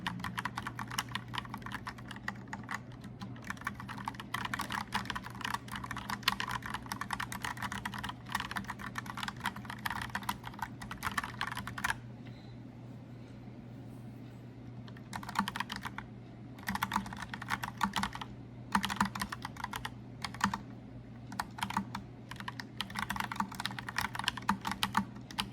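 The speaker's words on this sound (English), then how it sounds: "So one thing about this keyboard is I feel like my typing speed is a little bit slower." Rapid keystrokes clatter on a mechanical keyboard, dense bursts of clicky taps close up with a steady low hum beneath and a short pause midway, no voices.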